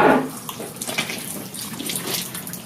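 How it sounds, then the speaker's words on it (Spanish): Water splashes and trickles as a cow's teat is washed before milking, a short steady wet rush close by with a louder spurt at the start. "Se le lava la teta a la vaca antes de ordeñar."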